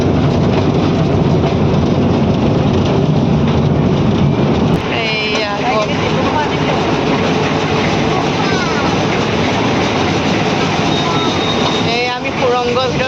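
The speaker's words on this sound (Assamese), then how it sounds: "ডিব্ৰুগড়ত গৈ আছোঁ আমি ট্ৰেইনত উঠি।" A toy train ride in a park in Sivasagar, Assam, rumbles loudly and steadily from start to finish, with a brief shift in tone partway through and voices now and then beneath the noise.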